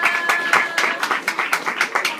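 A church congregation claps in quick, uneven rhythm, a short burst of applause with sharp hand claps repeating close by.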